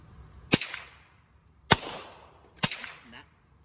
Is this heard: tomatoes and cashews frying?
no